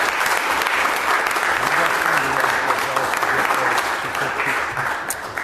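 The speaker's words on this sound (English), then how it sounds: "let's give him a big round of applause as he goes up there" Sustained applause from an audience at a city council regular meeting, a steady dense clapping that holds at one level throughout and eases slightly at the very end.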